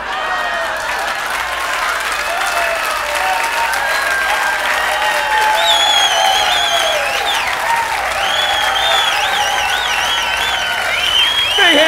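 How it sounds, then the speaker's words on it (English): A comedy club audience applauds a comedian after a joke, dense sustained clapping across the room with some crowd murmur and faint talking over it, steady and loud throughout. "big round of applause"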